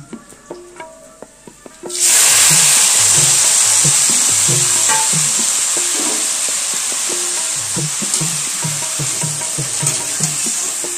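Tomatoes hit hot tempering oil for Chhattisgarhi kadhi and burst into a loud, steady sizzle a couple of seconds in. Soft clicks of stirring keep sounding under the frying throughout.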